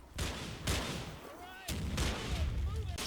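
Gunfire in the WWII tactical game Combat Mission Fortress Italy, with Sherman tanks and infantry sections laying down cover fire: repeated heavy rifle and cannon reports at close range, with whistling, whining projectiles between the shots.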